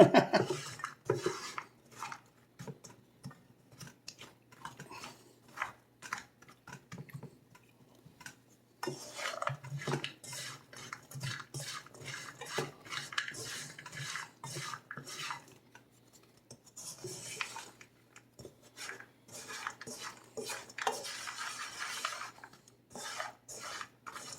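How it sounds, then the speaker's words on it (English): Almonds stirred in a pot while being candied, giving repeated scraping and clinking of a utensil against the pot in irregular bursts with short pauses, close and fairly quiet, with no talking. "There's just a lot of stirring involved."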